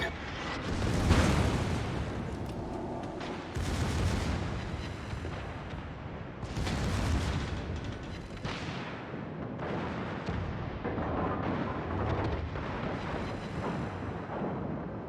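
Heavy naval guns boom repeatedly through a warship battle in a video game, with big blasts near 1, 4 and 7 seconds over a constant roar of continuous fire and rumbling impacts.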